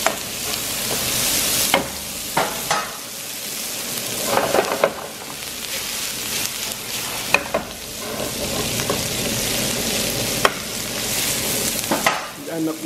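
Hot peppers fry in a pan with a loud, steady sizzle, while a utensil stirs and scrapes them at intervals with sharp knocks; no one speaks.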